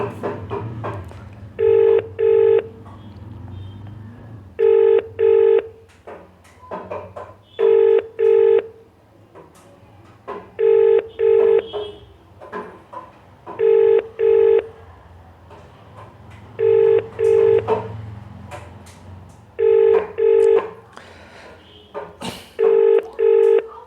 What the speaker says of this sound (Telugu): ఫోన్ చేస్తున్నాము